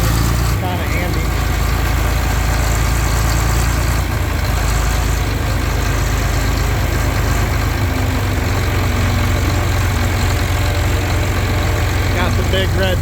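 A John Deere 4020 tractor engine running with a steady, heavy low-frequency idle close by, someone talking over it throughout.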